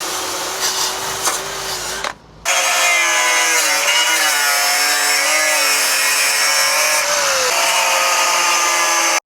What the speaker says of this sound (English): Cut some of the inner seal out, which is the rusted parts.